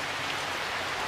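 Steady rain falling, a dense, even hiss of drops pattering on surfaces nearby, loud and continuous with no voices.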